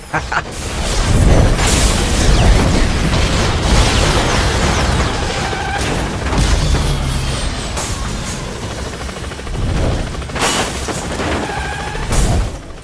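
Missile explosions on a racing course in Split/Second hit in heavy, loud booms and crashing blasts that keep rumbling, with voices talking at times under the din.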